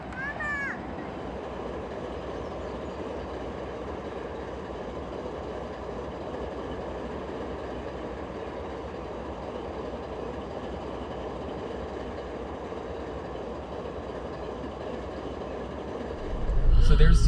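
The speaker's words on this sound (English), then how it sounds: "There it is, Norfolk and Western." Norfolk and Western locomotive 8103 rolls past with a steady, dense rumble and rail clatter that holds loud and even throughout, swelling sharply with a heavier roar right at the end.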